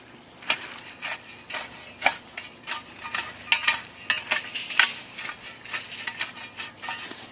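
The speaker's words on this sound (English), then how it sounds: "You can see I'm just kind of scraping just under the surface," Soil scraped with a tool just under the surface, slicing through plant roots, gives a series of close, gritty scratches and rasps in uneven bursts.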